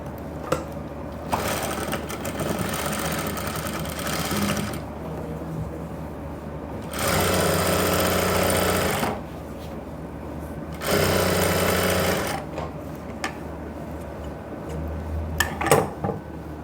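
A sewing machine stitches fabric for pants with an elastic back waistband and front belt, running in several loud, fast whirring bursts separated by pauses with faint handling sounds.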